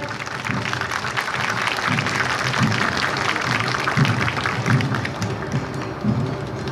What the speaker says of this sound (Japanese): どうぞ皆様大きな拍手でご声援ください